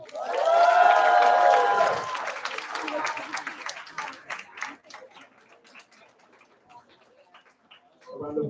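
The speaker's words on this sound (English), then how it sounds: "A round of applause for Ms. Sedano." Applause at a school district board meeting honoring teachers: voices and clapping swell at the start, then thin into scattered individual claps that fade toward silence before a new sound rises at the end.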